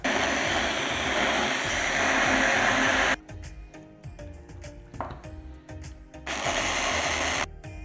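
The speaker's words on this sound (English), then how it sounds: "Blend this until it becomes a paste." A blender grinds softened dried chilies with soybean paste into a paste, a loud steady whir that drops off in the middle, leaving clattering low churning, then surges back before stopping.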